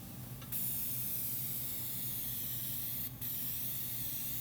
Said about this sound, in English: So we spray the activator on the area and make sure it's wet.